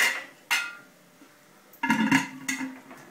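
A spoon clinks and scrapes against a bowl while protein bar ingredients are mixed, giving a few separate knocks followed by a short burst of rattling strokes, close and fairly quiet.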